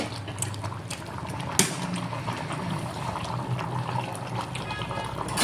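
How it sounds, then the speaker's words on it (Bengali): Raw mustard oil poured into a pressure cooker, a steady soft liquid trickle and sizzle, fairly quiet and close, with one sharp clink partway through. "এখন কাঁচা তেল, কাঁচা সরিষার তেল দিয়ে দিব"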